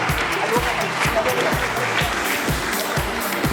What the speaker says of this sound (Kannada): ಎಲ್ಲರೂ ಚಪ್ಪಾಳೆ ಮೂಲಕ ಗುರುಗಳನ್ನು